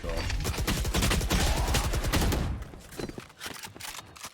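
Rapid gunfire in Valorant, a burst of loud shots fired through a wall during a competitive esports match, dense and sustained for about two and a half seconds before trailing off into quieter scattered clicks and game effects.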